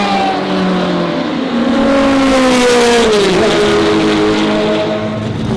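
Racing cars approaching on the Goodwood motor circuit, including a McLaren, their engines a loud continuous roar with rising and falling pitch as they draw nearer, with no talk.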